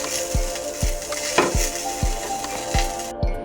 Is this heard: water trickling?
no